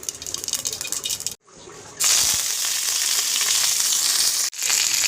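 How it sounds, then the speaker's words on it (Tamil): Mustard seeds dropped into hot groundnut oil, a loud dense sizzle and crackle that surges after a brief quiet gap, continuous and close. "அடுப்பில் எண்ணெய் ஊற்றிக்கோங்க கடலை எண்ணெய் கொஞ்சம் கடுகு போட்டுக்கோங்க"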